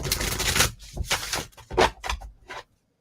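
A deck of tarot cards is shuffled by hand in a quick series of papery riffles and slaps, close and fairly loud, ending in silence.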